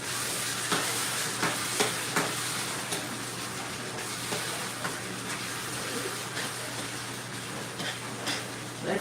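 Bitter melon frying in a pan, with a steady, loud hissing sizzle and occasional close scraping strokes as it is stirred, continuous throughout without talk.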